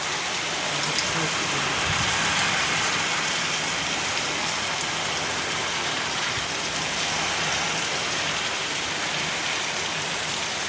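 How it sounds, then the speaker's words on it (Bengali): Heavy rain pours down with gusting wind in one steady, loud, dense hiss of falling drops. It holds at an even level throughout with no voices. "তো বৃষ্টি হচ্ছে, জোর বৃষ্টি হচ্ছে।"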